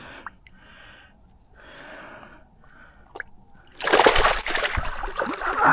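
A sudden loud burst of water splashes onto a carp angler at a river, with a quieter stretch of faint dripping and rustling before it, then a broad spray and wash that lasts until the end.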